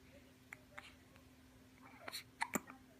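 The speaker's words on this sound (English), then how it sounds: "Hiccups are pretty cute." Several small baby hiccups come at irregular intervals, soft and close, with faint breathing and quiet background noise between them.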